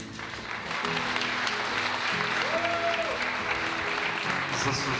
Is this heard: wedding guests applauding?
yes